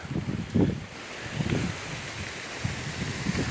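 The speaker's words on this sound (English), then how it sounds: "big gust of wind" A big gust of wind blows outdoors around potted Texas White Everbearing fig trees, rumbling low and buffeting the microphone in uneven surges that rise and fall for a few seconds.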